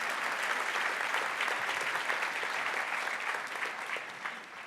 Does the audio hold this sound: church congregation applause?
yes